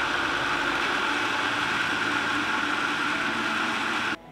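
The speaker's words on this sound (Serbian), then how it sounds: "Poklopit ću blender i samleti kruške." A kitchen blender grinds boiled pears with a loud, steady whirr that holds unchanged for about four seconds and then cuts off abruptly.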